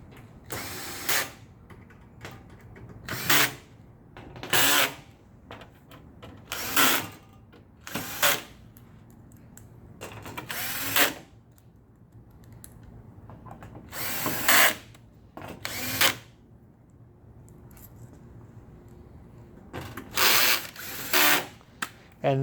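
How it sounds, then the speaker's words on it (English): A power screwdriver drives screws back into a Toshiba fax machine after a fax board install, sounding as a series of short, loud whirring bursts repeated steadily with brief pauses between, close to the microphone. "This is why we use a power screwdriver."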